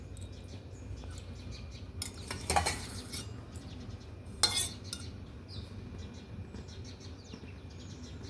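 A metal spoon scrapes and clinks against a steel plate while ghee is spooned onto carrot idli, two sharper clatters standing out over faint background chirps in a quiet kitchen.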